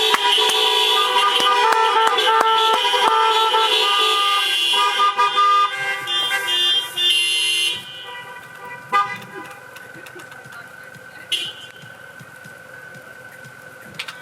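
Car horns honk outside a wedding reception for the newlyweds, with a dense chorus of overlapping horns blaring loudly for several seconds, then thinning to sporadic scattered toots as the noise fades.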